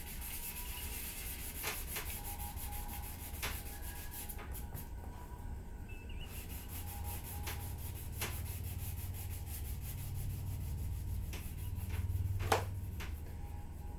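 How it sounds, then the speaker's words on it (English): Small sanding block gently rubbing down raised dried super glue on a 1:650 scale U.S.S. Enterprise model kit, a quiet continuous scratchy rasp with faint ticks, close and low in level. "Take my little sanding block and just gently sand away the raised part of the super glue."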